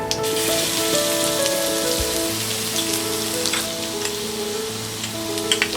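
Cumin, asafoetida and garlic sizzle steadily in hot oil for spinach khichdi, a dense continuous crackle with a faint background hum and no voices.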